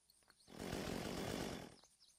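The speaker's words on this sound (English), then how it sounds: "Chainsaw, you are my best friend." Chainsaw revving in the video game Unturned, a loud sustained buzzing roar that starts abruptly, holds steady for about a second, then cuts off, with quieter game sounds before and after.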